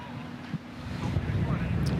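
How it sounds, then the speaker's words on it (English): Strong wind gusts buffet the microphone on an open golf course during a professional tournament in New Orleans, a steady low rumble swelling and thickening toward the end, with no voices over it. "that wind certainly, Dottie, this is some of the stronger gusts we've seen this afternoon"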